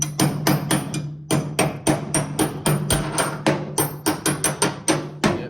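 A hammer pecks a bolt through a truck cross member, about twenty sharp metallic taps in quick, slightly uneven bursts, close and loud with no talking.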